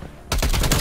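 Submachine gun gunfire in Call of Duty Black Ops Cold War free-for-all match: quiet, then a loud sustained burst of rapid automatic fire for the rest of the moment.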